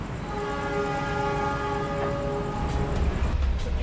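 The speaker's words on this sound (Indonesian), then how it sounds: "kereta api Ranggajati diberangkatkan dari stasiun Surabaya Gubeng mengarah ke Bangil, Probolinggo, Jember" Ranggajati stainless steel new-generation passenger train departs Surabaya Gubeng station, sounding a sustained, fairly loud horn chord for about three seconds over rumbling rail noise.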